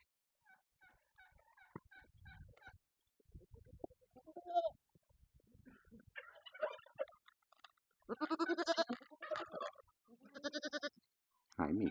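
Goats bleat in a farm paddock, several loud wavering calls bursting out close by in the second half, after softer scattered bleats, snuffles and small noises; a fowl-like gobbling chatter also sounds early on.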